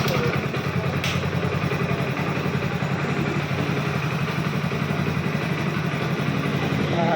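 A motorcycle engine runs steadily in second gear during warm-up, a dense continuous mechanical drone with low rumble and faint clatter, close and unbroken throughout.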